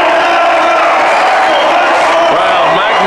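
Crowd cheering and whooping at a strongman event after a Swedish competitor's record lift of 409 pounds, a loud sustained roar of many voices with shouts rising and falling, while a commentator speaks over it.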